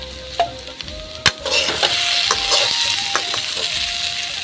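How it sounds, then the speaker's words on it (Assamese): Potatoes frying in a pan on a home stove, with a steady hiss of sizzling oil and a few sharp metallic clinks and scrapes from a stirring spoon early on, heard up close with no talking. "আৰু এইফালে মই আলু ভাজি আছোঁ"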